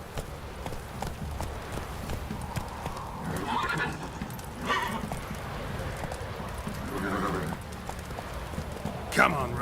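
Roach the horse galloping in The Witcher 3, rapid hoofbeats drumming steadily with a whinny, under a voice speaking.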